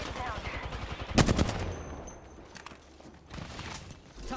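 Bursts of automatic gunfire ring out in an Apex Legends match, one sharp loud volley followed by fainter scattered shots and game sounds, with talk running underneath.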